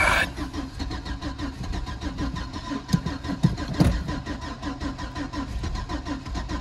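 A Case diesel tractor cranks and struggles through a cold start, a rapid rhythmic chugging with a few sharp bangs midway, close and continuous.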